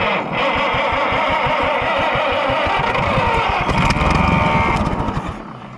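Gas engine cranking and sputtering as it tries to catch after a spray of green-can brake cleaner used as starting fluid, a loud, steady rapid chug that swells briefly near the end, then fades.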